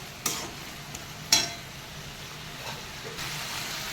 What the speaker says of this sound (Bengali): আমি এবারে জল ঢেলে দেবো